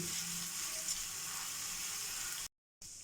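Chicken roasting on a tawa over a medium-low flame, giving a steady, close sizzle throughout before a brief cut to silence and a return of the frying hiss.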